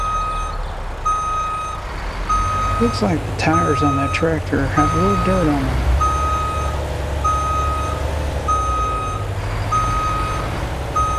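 Truck reversing beeps from a tractor unit backing a trailer into place in American Truck Simulator, a steady repeating alarm tone that runs through the whole stretch, with someone talking over it partway through.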